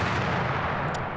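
A single deep, heavy explosion booms and rumbles continuously as a door is blasted open, filling the whole moment with dense low roar and no voices.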